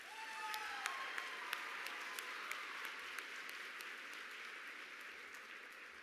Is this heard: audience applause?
yes